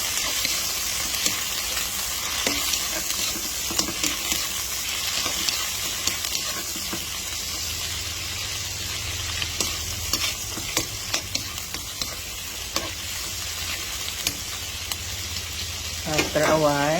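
Shrimp sizzles and crackles in a hot pan with onion and garlic, a steady frying hiss broken by frequent scraping stirs, and a sharper burst of spitting near the end.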